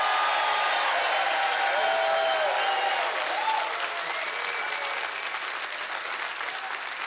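A theatre audience at the Alhambra Theatre in Dunfermline applauds loudly, a thick continuous wash of clapping with some whistles and cheers, slowly easing off toward the end.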